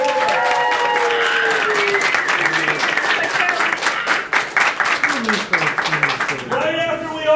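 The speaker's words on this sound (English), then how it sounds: "applause." Live audience applause at a furry convention show (MCFC 2010) for Uncle Kage, a loud sustained round of clapping and crowd noise with voices and a few tonal sounds mixed in, fading slightly near the end.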